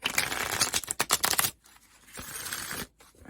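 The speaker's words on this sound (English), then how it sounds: "I do shuffle these off camera, but I like to give them a light shuffle during the reading." Tarot cards from a Light Seers deck are shuffled lightly by hand in close, quiet bursts of riffling and flicking, with short pauses between the bursts.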